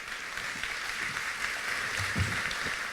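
Audience applause for a speaker taking the stage, a steady broadband patter of many hands that holds evenly for the whole stretch without any talking over it.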